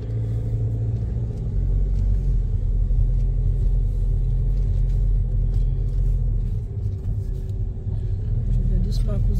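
A car rolls slowly through a bend during a driving lesson, producing a steady low engine rumble and road noise throughout, with people talking over it.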